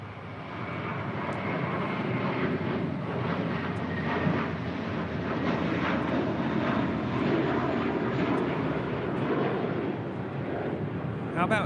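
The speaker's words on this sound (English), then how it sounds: "This is JetBlue Airways, Flight 1374, departing to Newark on an A321" A JetBlue Airbus A321 departs LAX for Newark, a broad, sustained jet-engine roar rising from the distance and holding steady for several seconds, while a voice talks faintly under the noise.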